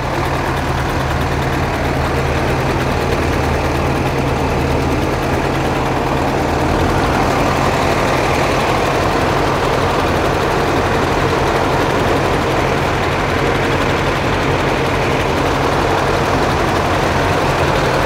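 A jet vac truck's large engine idles steadily with a deep low rumble and broadband roar, continuous and close throughout.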